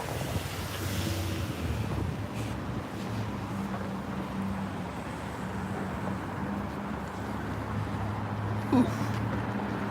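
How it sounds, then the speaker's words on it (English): Steady, heavy wind buffeting the microphone with a constant low roar for the whole stretch in Washington, DC, on a January evening, plus a brief louder gust near the end. "as you can tell, it's super windy. Super, super windy."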